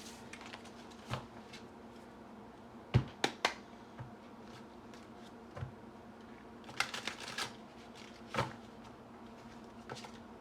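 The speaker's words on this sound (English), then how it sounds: "I'm gonna go ahead and pull some tarot cards" Tarot cards shuffled and drawn by hand, heard as quiet, scattered soft clicks and flicks in irregular bursts against a faint room hush.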